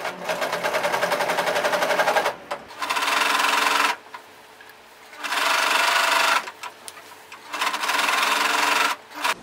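A sewing machine stitching the side seams of a skirt runs in long, steady bursts of rapid mechanical chatter, stopping briefly between runs, close and loud with no voices.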